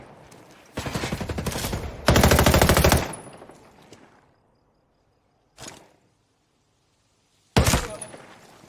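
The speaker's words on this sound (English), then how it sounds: "Shoot those assholes! Shoot them!" Automatic gunfire in the military shooter game Ghost Recon Breakpoint, two loud sustained bursts back to back followed by a fading tail, then a single short shot and another sharp burst after silence.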